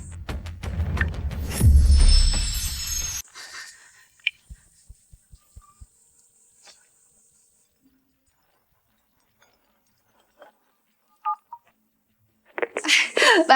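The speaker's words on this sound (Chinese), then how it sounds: "我打个电话。" After a burst of noisy commotion dies away, a phone is dialed, with a string of short clicks followed by a few sparse dial tones in near silence.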